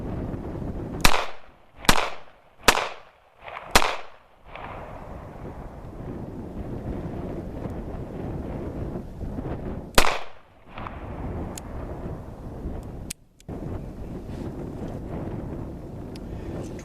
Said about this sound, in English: I took 4, and then one deliberate shot at the end.